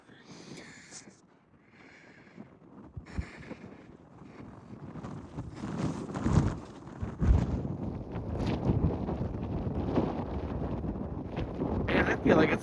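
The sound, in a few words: wind blowing on a desert trail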